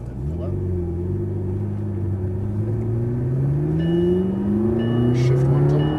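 McLaren MP4-12C race car pulling out onto a track, a loud close engine drone with rising pitch as it accelerates steadily, under a faint sense of cabin noise.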